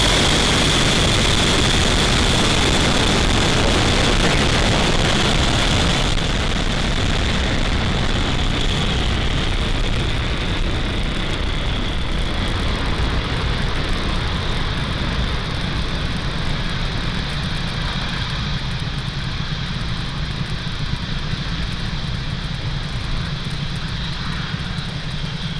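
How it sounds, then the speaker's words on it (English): A rocket lifting off on a Starlink mission in November 2021 produces a loud, continuous roaring rumble that stays dense and steady as it pushes downrange, easing only slightly over time. "Liftoff. Vehicle is pushing downrange."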